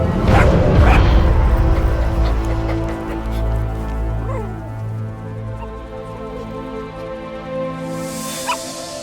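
A dog in the video game Metal Gear Solid V gives loud, close yips and barks at the start, then softer whimpers over a sustained, droning game soundtrack.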